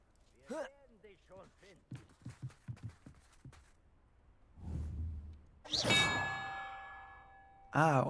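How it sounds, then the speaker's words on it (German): In Hogwarts Legacy, bell tower bells ring out as a series of clear, struck metallic tones in a quick, uneven run. A louder clang follows with a long ringing decay, and a speaker talks over parts of it. "Okay, jetzt kann ich den Glockenturm da oben spielen."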